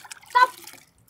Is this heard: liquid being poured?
yes